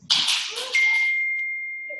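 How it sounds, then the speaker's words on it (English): A phone notification alert sounds as a bright ding that rings out and fades slowly over about a second and a half, following a brief burst of noise, in an otherwise quiet room. "my phone is being blown up"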